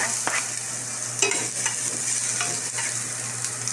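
Ginger frying in olive oil in a pan, a steady soft sizzle with occasional stirring scrapes and clicks, close and alone without talk.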